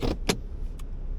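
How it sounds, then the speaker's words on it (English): A truck in four-wheel drive working through muddy ruts while winter camping in damp conditions, with its engine rumbling steadily close by and a few short sharp clunks and rattles near the start. "Now we gotta throw her in 4-wheel drive and hope we can get out of these mud ruts."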